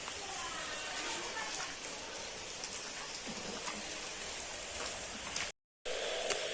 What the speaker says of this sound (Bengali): সকাল থেকে বৃষ্টি হচ্ছে, দেখো কেমন